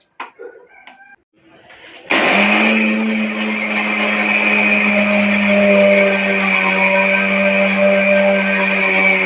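Kitchen mixie grinding black sesame seeds and peanuts into a fine powder, starting abruptly after a few quiet clinks and then droning as a loud, steady whine close up for several seconds.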